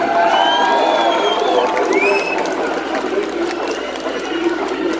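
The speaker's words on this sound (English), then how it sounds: "Now give yourselves a round of applause." Crowd cheering and applauding at a live metal concert in a Dallas venue, a dense, sustained roar with whistles and shouts rising over it.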